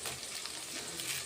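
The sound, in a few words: curry leaves sizzling as they are added to frying pan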